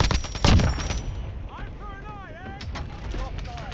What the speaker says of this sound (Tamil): 2-3 வாட்டி சுட்டான்.